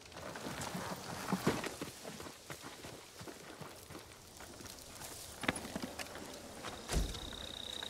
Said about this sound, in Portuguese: És um bom cavalo, Kage.